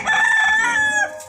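A rooster kept near a pigeon breeder's loft crows once, loud and close, a single drawn-out cock-a-doodle-doo that trails off.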